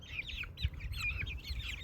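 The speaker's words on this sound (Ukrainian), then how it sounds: "Один півник, коротше, решта курочок." Chickens and a single rooster in a village garden, with repeated short chirps, clucks and tweets overlapping over two seconds against low background rumble, fairly close.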